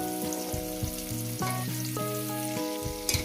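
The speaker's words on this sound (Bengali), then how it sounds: "এই আলু আর মুড়োটাকে সুন্দর করে আমি ভেজে নেবো পাঁচ মিনিট ধরে" Potato pieces and a fish head frying in a pan, a steady close sizzle that runs throughout beneath sustained tonal background music.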